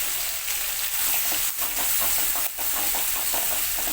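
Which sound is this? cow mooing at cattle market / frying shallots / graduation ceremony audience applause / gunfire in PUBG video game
frying shallots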